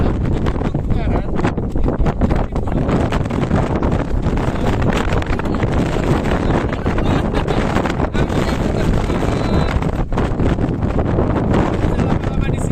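Strong gusts batter the microphone on the bald summit of Mount Ungaran during a storm, a loud, constant roaring buffet of wind noise with no letup.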